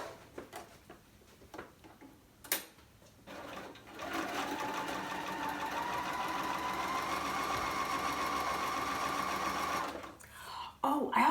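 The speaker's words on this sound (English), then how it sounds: "So let's get sewing." A sewing machine stitches pillowcase binding on a baby quilt, running steadily for about six seconds as a close, even whirring hum, with brief handling clicks and knocks before and after.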